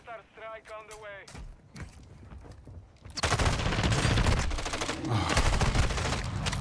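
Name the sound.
friendly mortar strike explosions in video game Call of Duty DMZ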